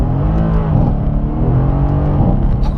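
A 2017 Mercedes C63 AMG S accelerates hard, its engine note loud and close from inside the cabin, a deep rising roar with a quick shift partway through.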